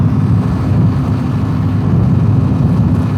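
A Ducati V4S motorcycle on the move, its engine a steady low drone blended with heavy wind rush across the helmet microphone, continuous and close with no pauses.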